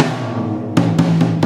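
A low-tuned rack tom on a drum kit rings out in a sustained, damped boom, followed by several sharp hits in quick succession, close and clear.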